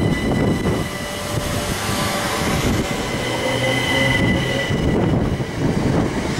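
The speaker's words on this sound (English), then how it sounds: "There go the Southern Electrostars." Southeastern Electrostar electric trains pull out of Minster station, with a loud, continuous rumble of rolling wheels, motor whine and faint rail squeal filling the whole stretch.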